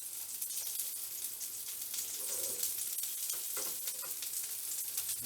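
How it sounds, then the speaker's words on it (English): Stuffed bitter gourds fry over medium heat in a pan, giving a soft, steady crackling sizzle with faint spatters throughout and no talking. "And let it fry."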